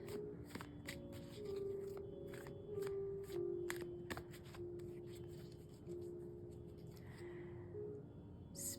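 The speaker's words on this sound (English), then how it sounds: "So, almost done shuffling." A deck of tarot cards is shuffled by hand, with repeated crisp, close card snaps and a soft papery rustle over a quiet, steady tonal background, and no voices.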